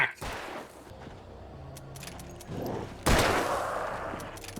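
Gunfire in Alan Wake Remastered, with a few loud, sharp shots at the start and a heavier blast about three seconds in, each trailing into noisy decay over ambient game sound.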